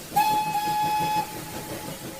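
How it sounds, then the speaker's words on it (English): A little steam train on Snowdon gives one short, clear whistle toot lasting about a second, bright and tonal over a soft rumbling background. "he gave them a little toot on the whistle for good luck"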